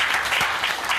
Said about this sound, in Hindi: आप इनके लिए जोरदार ताली बजाओ